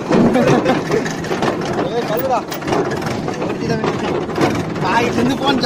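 A steady tractor engine drone rumbles throughout, heard from the tractor on agricultural land, with a person talking over it.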